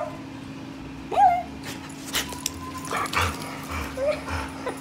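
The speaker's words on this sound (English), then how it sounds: "2 happy dogs." Two happy dogs whimpering, yipping and letting out short barks in a room, a few scattered bursts close by over a steady low hum.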